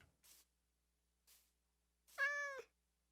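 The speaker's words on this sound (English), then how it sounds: "But I'm hearing a cat, so it's gotta be here, right?" A cat meows in Minecraft: two soft short chirps followed by one clear, louder, tonal meow, all faint against silence.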